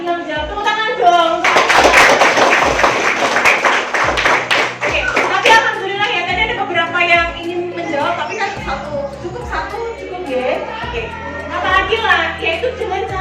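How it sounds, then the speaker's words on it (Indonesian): Children in a classroom break into a burst of clapping, a dense patter of hands that swells then fades, with kids chattering and a teacher's voice over it. "Tepuk tangan dong."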